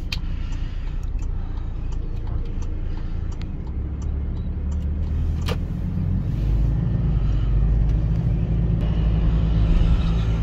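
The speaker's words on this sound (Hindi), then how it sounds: "माशाल्लाह बहुत ही अच्छी ड्राइव है जी टोयोटा रीवो की" A Toyota Revo Hilux pickup driving on a busy road gives a steady low engine and tyre rumble heard from inside the cab, swelling louder toward the end, with faint ticking.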